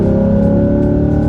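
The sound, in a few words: Corvette C8 V8 engine growl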